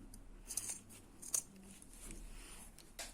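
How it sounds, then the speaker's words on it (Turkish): Scissors trim the seam allowance on a nylon cord bag project, producing a few faint, quiet snipping cuts against light background noise. "Şimdi oradaki payı da kesiyorum."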